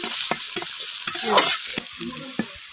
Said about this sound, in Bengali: এখন পেঁয়াজ রসুনটা আমি কিছুক্ষণ ভাজা লইলাম।